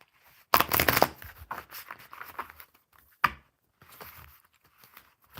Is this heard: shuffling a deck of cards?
yes